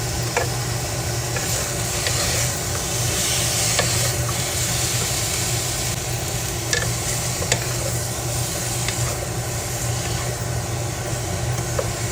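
Sliced onions and carrots frying in a pan with a steady, continuous sizzle and hiss, without a break from start to finish and no talking over it.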